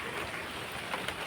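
Steady rain falls on a wet morning, a continuous even hiss of drops on surfaces with no talk, moderately quiet throughout.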